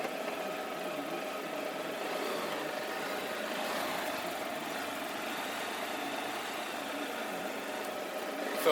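A 2015 Can-Am Spyder RT Limited three-wheel motorcycle engine idling, a steady even hum held close and unchanging throughout with no talking.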